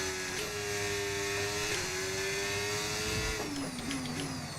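Steady high-pitched whine of a Ferrari-powered Formula 1 car engine in the F1 25 racing game, holding a constant drone with small pitch shifts and downshifts near the end, loud and continuous with no talk.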